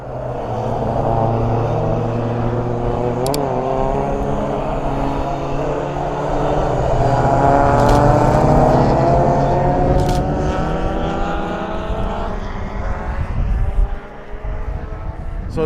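Race cars at a motorsport meeting sweep around a track bend in a loud, continuous engine roar, with revs rising and falling as cars pass, alone without talk.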